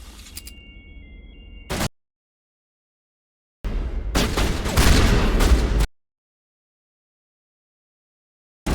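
Gunfire in the Mass Effect video game, a roughly two-second burst of dense rapid shots standing alone between silent gaps, following a quieter stretch of ambient hum.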